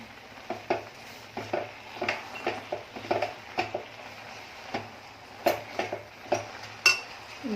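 A spoon stirs bottle gourd halwa with boiling milk in a pan over a high flame, producing repeated close scrapes and clinks in an irregular rhythm over a soft simmer.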